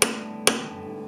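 Two light, sharp hammer taps on a center punch mark drill spots on a guitar neck's edge for side marker inlays, each strike close and crisp with a short ringing decay, about half a second apart.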